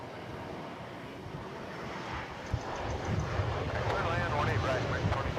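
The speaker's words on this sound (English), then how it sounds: "Here comes United Flight 337 from Denver. It's a Boeing 737 MAX." A United Boeing 737 MAX arriving at Dallas–Fort Worth, its jet rumble rising from moderate to louder as it approaches, with wind noise and a voice speaking over it.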